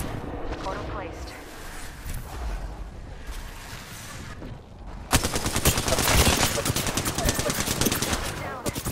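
Gunfire in the battle royale shooter Apex Legends: a muffled stretch of scattered shots gives way to a loud, dense rattle of rapid automatic fire in the second half, with game voice lines partly under it.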